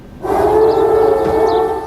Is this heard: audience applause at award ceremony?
no